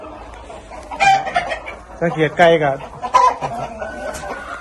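Backyard laying hens clucking and cackling steadily nearby in cool weather, with someone speaking Thai over the birds.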